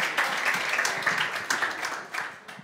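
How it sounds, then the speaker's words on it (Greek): A comedy show audience gives a modest round of applause, a steady patter of many hands clapping close up that thins out toward the end. "Το λες και ήπιο χειροκρότημα."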